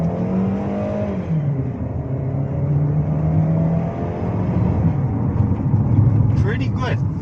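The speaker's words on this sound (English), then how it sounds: "Let's see how quick it shifts up the gears" A Chery Tiggo 8 with a dual-clutch gearbox in sport mode accelerates hard, its engine rising in pitch and then dropping as it shifts up through the gears, heard from inside the cabin while a person talks over it.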